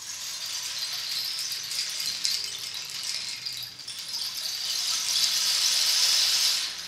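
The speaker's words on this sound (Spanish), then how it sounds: "las piedrecillas o las semillas caen y en su golpeteo a los palitos produce un sonido que se asemeja" A bamboo rain stick with seeds tumbling through the tube gives a continuous soft hiss and rattle, swelling and fading as it is tipped, heard alone and fairly quiet.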